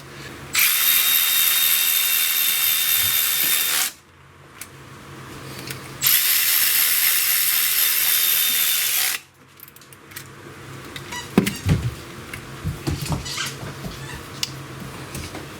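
A power tool spins up on a bolt of a Ram 1500 EcoDiesel during serpentine belt replacement, two loud sustained whirring bursts close by, followed by quieter clicks and metallic clanks of hand work.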